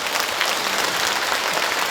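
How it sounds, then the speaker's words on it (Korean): Audience members at a city mayor's talk concert applaud, a steady, even patter of many hands clapping together at moderate volume, heard alone without voices. "박수 한번 서로 주고받으면 어떨까요?"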